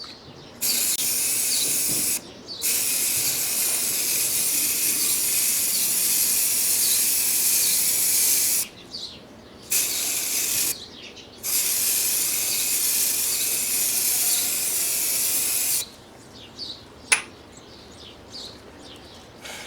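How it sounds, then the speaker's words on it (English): Long bursts of aerosol spray hiss close up onto a motorcycle air filter on a Suzuki DL650 V-Strom, broken by short pauses, with a faint chirp near the end. "After we have applied the substance with the spray"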